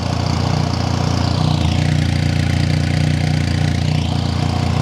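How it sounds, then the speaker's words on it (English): A Benelli 502X motorcycle engine idles with a steady, deep, throaty rumble, loud and close, with no talk over it. "So first off, we'll start with the 502. I'll start it up. Quite a nice deep throaty rumble."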